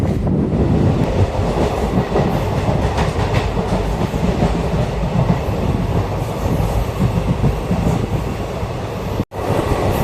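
A passenger train hauled by two WAP 7 electric locomotives rumbles steadily along the rails with a continuous low roar and faint rhythmic clatter, heard from inside an empty coach, no voices, ending with a brief dropout.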